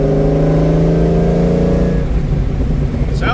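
A 2003 Ford SVT Cobra engine revving up close and loud, a rising throaty roar that drops off into a rumbling idle near the end.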